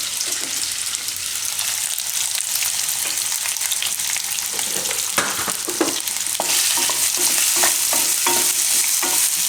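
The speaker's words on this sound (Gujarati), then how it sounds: "બટેટાને થોડીક વાર શેકી દેવું." Potatoes frying in a pan for Gujarati advi bateta shaak, a steady crackling sizzle with occasional stirring scrapes, close and continuous, no talking.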